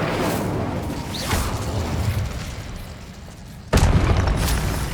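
A Confringo explosive spell blast in the fantasy video game Hogwarts Legacy, with a heavy booming roar that rumbles continuously and then swells into a sudden loud burst near the end.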